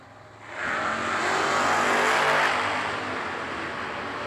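Drag racing cars, a 1968 Camaro and a Mustang, launch at a race. A loud engine roar surges in after a quieter start and holds as a sustained, strained drone before easing slightly.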